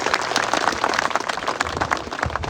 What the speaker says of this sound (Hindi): एक बार जोरदार तालियों से हमारे वीरों का आज के इस कार्यक्रम में स्वागत करें।